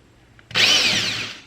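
A short, sharp drill whine starts abruptly and sustains, close and loud, as a 1/8-inch bit bites through a metal rivet on a window screen clip.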